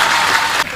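Loud applause from an audience at a religious speech, a dense burst of clapping that cuts off abruptly near the end.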